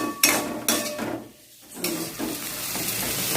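Bitter gourd pieces with a little salt sauté in a pan, a loud continuous sizzle punctuated by scraping stirs and clinks of a spoon against the metal, with a short quieter lull.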